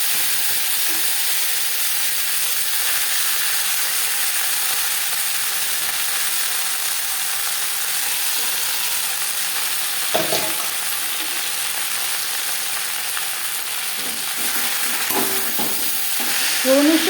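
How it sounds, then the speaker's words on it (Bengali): Moringa leaves fry in oil with whole cumin tempering, giving a loud, continuous sizzling hiss broken by a few scraping stirs near the end, close and without talk. "ফোড়নের সাথে সজনে পাতা বেশ ভালো করে মিক্স করে দেবো।"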